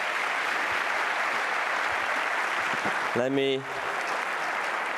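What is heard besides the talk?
audience applause at a conference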